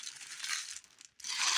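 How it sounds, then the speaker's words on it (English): Plastic packaging of a McDonald's Mario Kart 8 Happy Meal toy being handled, close crinkling and rustling that pauses briefly and then resumes, with no talking. "Sorry for the crinkling, guys."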